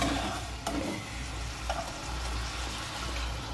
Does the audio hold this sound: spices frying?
yes